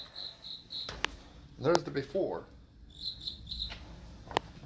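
Cricket chirping in short, high repeated trills, in bursts at the start and again later, fairly faint, with a brief stretch of someone speaking in between and a couple of sharp clicks.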